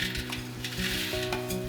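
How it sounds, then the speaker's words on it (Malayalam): Vermicelli (semiya) is stirred into hot ghee in a bronze pot, giving soft sizzling with quick metallic clinks and scrapes of the utensil against the pot, over a steady tonal background. "നെയ്യൊന്ന് ചൂടായി വരുമ്പോൾ അതിലേക്ക് സേമിയ ഇടാം"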